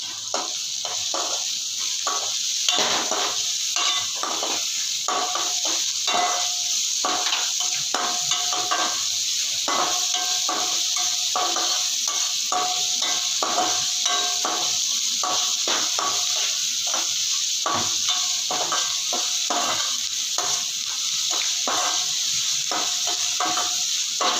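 Ragi flour, onion and coriander sautéing in a pan at home, a steady sizzling hiss with scattered scraping and stirring clicks throughout, no voices.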